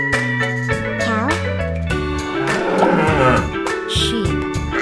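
A cartoon cow gives a drawn-out moo over a bouncy children's music track with a steady beat, loud and up front.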